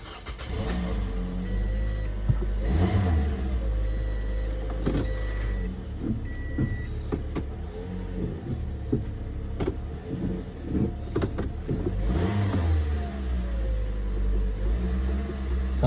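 Dirty, oil-leaking used car at a CarMax auction preview, engine cranking and then running at a steady mid-pitched idle with occasional revs and clicks, close and continuous without talk.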